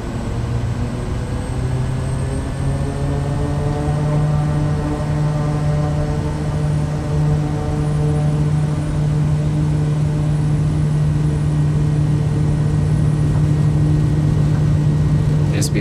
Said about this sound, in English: then we'll go throttle up, and then rotate at 60 knots